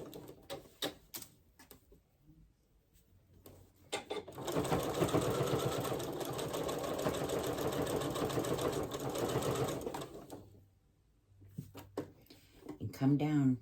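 A sewing machine stitching a thick quilted potholder seam runs in a steady, rapid mechanical whir for about six seconds, framed by clicks and handling noises before and after, with a voice speaking during the quieter parts.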